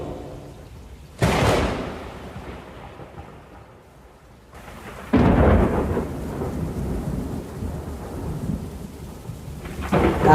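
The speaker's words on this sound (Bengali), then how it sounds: "মুষলধারে বৃষ্টি শুরু হয়।" Loud thunder cracks boom twice over a steady backdrop of heavy, pouring rain in a cartoon village storm, with a third rumble building at the end; no one speaks.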